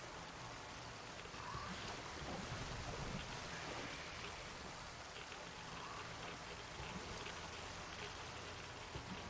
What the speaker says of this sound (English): Gotta shut the water off